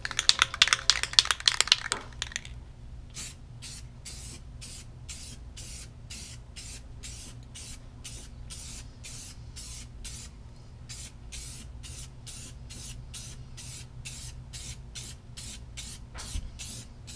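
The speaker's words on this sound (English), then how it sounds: "you want to spray it from side to side like this" An aerosol can sprays clear coat onto a headlight in a long hiss at first, then in a steady series of short rhythmic bursts, fairly close, with no talking.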